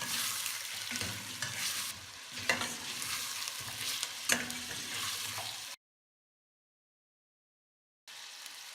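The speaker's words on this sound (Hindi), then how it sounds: "जब खुशबू आने लगे तो इसमें गोश्त डालकर 5 मिनट फ्राई करें।" Mutton frying in hot ghee with garlic and ginger, a steady close sizzle with scraping stirs, then a gap of silence before the frying resumes.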